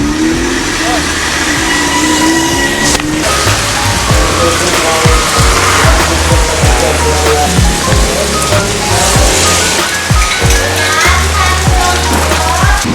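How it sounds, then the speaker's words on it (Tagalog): Rain pattering steadily on a wet road during a bicycle ride at Mataas na Kahoy, with passing car engines and traffic rumbling close by, and people talking intermittently over the continuous wash of noise. "Ride sa ulan."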